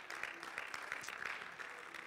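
A church congregation gives a hand clap of praise, many hands clapping in a dense, even patter at a fairly soft, distant level, sustained throughout without voices on top.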